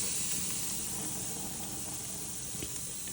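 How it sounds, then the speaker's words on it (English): Steady broadband hiss and crackle of filet mignon steak sizzling on a hot grill, continuous and fairly loud, with no talking. "Listen to that sizzle."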